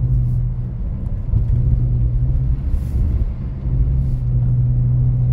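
A rear-wheel-drive BMW E46 sliding on snow gives a low, rumbling engine drone with gentle throttle swells and dips, heard from inside the car, with no talk.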